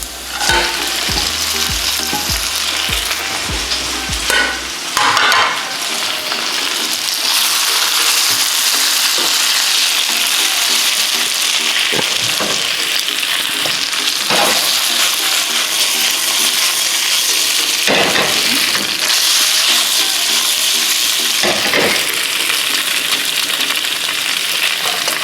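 Beef for Mongolian beef sizzles loudly and continuously in a hot pan, with occasional stirring scrapes and clinks rising over the constant hiss, and no talking.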